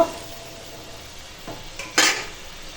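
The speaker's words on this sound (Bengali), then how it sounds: "এখন এই ভেজে রাখা মাছ দিয়ে দেব" Fried fish pieces, bhetki and katla, going into a pot of sour amra dal: soft metallic clinks, then a short splashy clatter near the end, quiet and close in a home kitchen.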